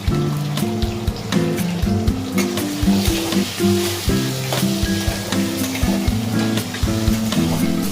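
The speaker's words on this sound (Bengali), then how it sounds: "আলু ভাজা হয়ে গেছে" Potatoes frying in a pan with salt and turmeric give a dense, steady sizzle that runs loud and close for the whole stretch, with a low tonal layer underneath.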